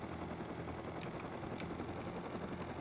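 Helicopter in the survival video game Rust, a steady low rotor and engine drone running continuously and fairly faint, with a couple of brief sharp high clicks partway through.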